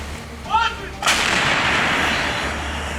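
An artillery gun fires on the front line in a Donetsk-region forest, a single sharp, loud blast followed by a long rolling rumble that fades slowly; someone speaks faintly just before the shot.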